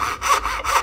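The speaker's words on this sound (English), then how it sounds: "I'm just gonna go and let the saw do what the saw does" A hand saw cuts wood for a dovetail joint with quick back-and-forth strokes, each a close, raspy scrape in a fast, even rhythm.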